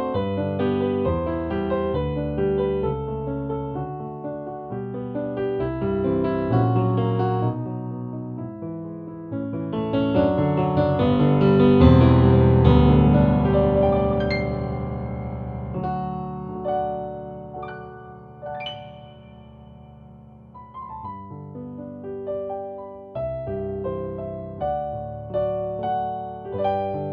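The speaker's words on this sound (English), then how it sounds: "that's the sound of the Shigeru Kawai concert grand piano" A Kawai CN39 digital piano's Shigeru Kawai concert grand sound plays a slow, expressive passage of ringing chords and melody, swelling louder in the middle before settling into softer, sparser notes.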